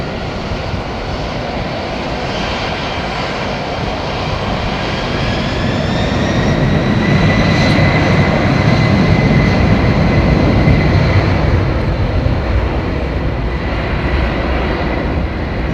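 A jumbo jet airliner takes off from Heathrow Airport, its engines a loud sustained roar with whining tones that swell and rise as it climbs away.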